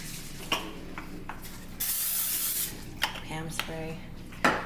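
A can of cooking spray hisses onto a pan in one close burst of about a second, surrounded by clinks and scrapes of kitchenware being handled.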